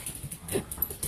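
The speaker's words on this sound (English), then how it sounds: "that's our dog playing" A pet dog whimpers and yips in short, soft bursts during play indoors, with faint household noise underneath.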